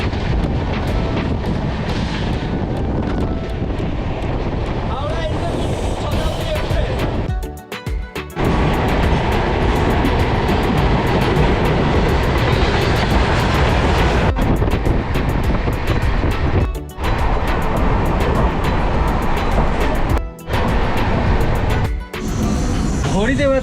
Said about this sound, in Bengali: কামারকুণ্ডু পার হতেই আমাদের সাথে দেখা হলো 260 কিলোমিটার আপেক্ষিক গতিতে ছুটে চলা হাওড়া এনজেপি শতাব্দী